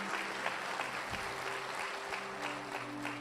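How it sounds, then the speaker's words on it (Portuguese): Church congregation applauding after a sermon prompt, a steady wash of clapping with a few sustained organ or keyboard tones underneath. "Você pode aplaudir o Senhor por isso"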